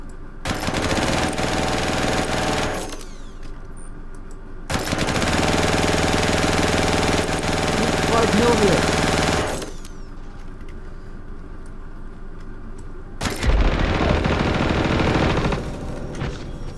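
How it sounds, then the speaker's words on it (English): Sustained bursts of rapid automatic fire from a six-barreled ballistic Gatling LMG in the Star Citizen video game, loud and close, with three long volleys separated by short pauses. "Who wants to be introduced to my 6-barreled Gatling friend?"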